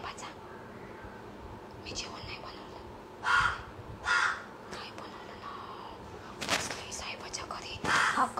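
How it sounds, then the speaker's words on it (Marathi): A crow caws several times in loud, separated bursts close by, with quiet indoor room noise between calls. "कावळा माझं डोकं खातो रोज, काव काव काव काव करत"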